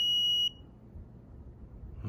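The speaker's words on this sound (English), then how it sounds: "If not, it beeps and you lose." A single sharp, high-pitched electronic beep from an ESP32-based game board, lasting about half a second, followed by quiet low background noise.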